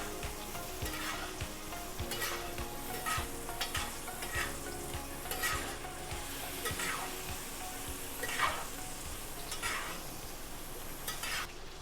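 Langoustine sizzling in a hot pan while being flipped and basted, a steady fry with repeated scraping and spoon clinks throughout, close and without talk.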